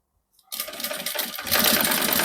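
An electric sewing machine starts up and backstitches over a zipper, a steady whirring motor hum that grows louder and denser partway through, close and alone.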